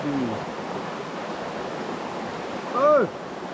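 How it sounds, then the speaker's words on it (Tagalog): Steady, broadband rushing of a flowing river fills the whole clip, with a short voice-like sound briefly rising near the end. "Ang sarap pala ng tunog ng ilog pa dito"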